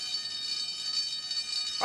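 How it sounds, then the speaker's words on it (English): An alarm rings continuously with a bright, steady electric buzz that stays loud and unbroken, ending with a short rising sweep at the close; no one speaks over it. "The alarm has sounded."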